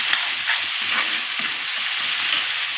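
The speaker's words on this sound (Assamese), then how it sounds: "লোকেল বিলাহীখিনি অলপ ভাজি ল'ম।" Local tomatoes fry and get stirred in a pan, giving a steady, close sizzle with soft scraping strokes of the spatula throughout and no talking.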